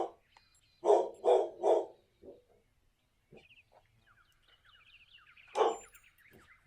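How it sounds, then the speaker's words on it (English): A dog barks nearby in three quick loud woofs, then lets out one more bark later, with quieter electronic game tones chirping between the barks. "Sorry for the barking in the background."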